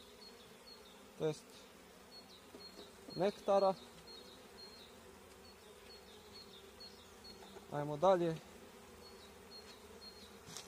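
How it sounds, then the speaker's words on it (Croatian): Honey bees buzz steadily around an opened hive during a frame inspection, with a few louder close passes as bees fly near; someone speaks briefly over the constant hum. "Evo, pčele se već ljute"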